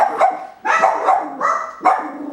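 Coton de Tulear puppies bark in four sharp, close bursts with brief gaps between them, loud and clear with no talking.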